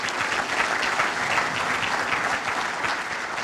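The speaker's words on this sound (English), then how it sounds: "Let's give her a round of applause." A ceremony audience claps at a military change of command event, a steady wash of applause at full strength throughout the short stretch with no voices over it.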